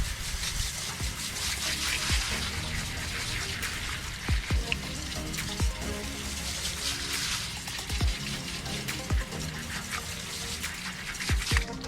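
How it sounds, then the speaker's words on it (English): Water sprays and splashes over a car wheel during a rinse, a steady hissing wash broken by a few sharper splashes and drips, fairly close. "I'm just going to rinse it off now."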